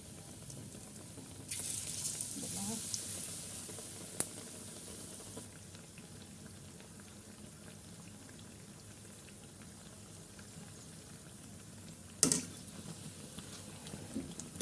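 Slices of bread dipped in egg batter fry in hot oil with a faint, bubbling sizzle, interrupted by a couple of short louder bursts and a clink.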